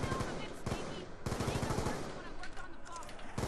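Rapid automatic gunfire from the Black Ops 2 Zombies map Buried, with bursts of shots nearly continuous across the clip and dense, loud and close, with brief pauses between volleys.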